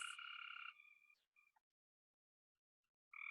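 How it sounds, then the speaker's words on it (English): Frogs croak at night in clear, loud overlapping trills that cut off abruptly, leaving a couple of seconds of near silence before the chorus swells back in at full strength. "The frogs are starting to sing for us."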